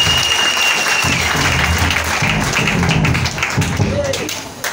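A church congregation applauding, dense sustained clapping filling the room throughout, with a voice speaking over it.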